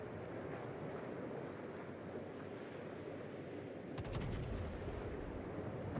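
Broadside gunfire from a warship in the World of Warships naval game: a sudden heavy boom and rumbling burst about two-thirds through, over a steady roar of wind and sea.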